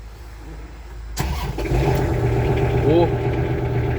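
Kubota GL46 tractor with cab and rotary tiller cranks and catches after about a second of near quiet, then settles into a loud, steady, close diesel idle with a slight rev.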